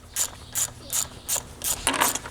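A hand ratchet turning an 8mm socket to back out screws on a Ford Ranger blow-off valve, giving six quick bursts of rapid clicking in an even rhythm, close and alone.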